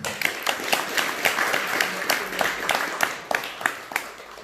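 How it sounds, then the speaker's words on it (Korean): A congregation at a Buddhist dharma gathering applauds, with close, fairly loud, uneven clapping that comes in a quick run of distinct hand claps across the whole stretch. "수고의 찬탄의 박수 부탁드리겠습니다"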